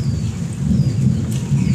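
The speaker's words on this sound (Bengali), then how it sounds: "অবশেষে বিপর্যয়ের ক্রমাগত বজ্রপাত হয়ে চলেছে আজকে একের পর এক।" Low rumbling thunder during a thunderstorm with rain in West Bengal, a continuous deep roll over steady rainfall, loud and without speech.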